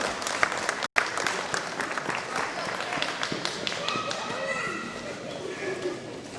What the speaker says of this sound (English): One more round of applause for the War Museum staff.